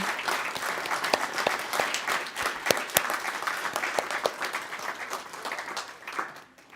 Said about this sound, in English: Let's give a round of applause to all the elementary students here who are making history in the room